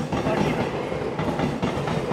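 Howrah–Dhanbad Black Diamond Express with new LHB coaches rolls along at speed, heard from inside as a continuous loud rumble with rhythmic clickety-clack of wheels over rail joints.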